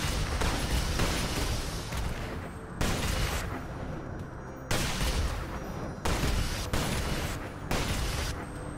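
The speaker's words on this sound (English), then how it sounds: "Now this blaster doesn't fire lasers. It fires rockets." A rocket blaster in The Lego Movie 2 Videogame fires rockets repeatedly, each shot a loud whooshing burst with a booming blast, roughly every second or two over a constant game backdrop, without speech.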